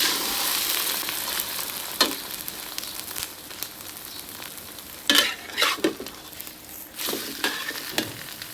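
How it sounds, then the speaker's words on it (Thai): Beaten eggs mixed with shrimp paste fry in moderate oil over medium heat, a steady close sizzle with louder crackling bursts and occasional spatula scrapes as the omelette browns on both sides. "ใช้ไฟปานกลาง น้ำมันพอประมาณ ทอดให้เหลืองทั้งสองด้าน"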